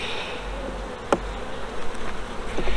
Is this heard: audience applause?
no